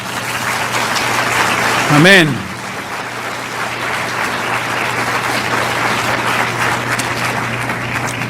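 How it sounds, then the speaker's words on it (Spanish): Church congregation applauding steadily through the whole stretch, a broad wash of clapping with a voice briefly calling out over it. "Dele otro aplauso al Señor."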